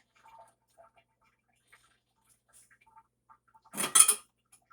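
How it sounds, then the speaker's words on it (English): A kitchen juicer is picked up and handled while making a carrot, pineapple, ginger, lemon and honey juice. Faint scattered taps lead into one short, close plastic-and-metal clatter near the end. "I'm just grabbing my juicer just to do the juice."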